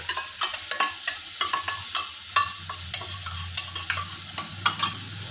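A ladle stirs salted mixed vegetables with dried lentil dumplings in a pan, giving a steady run of sharp scraping clicks and knocks against a low, continuous sizzle, close up and with no voices.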